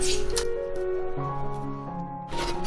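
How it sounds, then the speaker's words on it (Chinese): Soaked, rinsed shiitake mushrooms squeezed by hand to wring out water, giving two short wet squelching bursts at the start and end over steady background music. "泡发好的香菇洗干净，挤干水"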